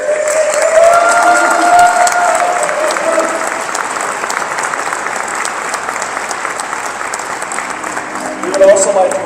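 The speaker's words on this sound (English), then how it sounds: "please give a big round of applause for all of our local LGBTQ elected officials" A large crowd of about 1,200 at a Harvey Milk Diversity Breakfast in the Coachella Valley gives sustained, loud applause for local LGBTQ elected officials, with some cheering mixed in and steady clapping throughout.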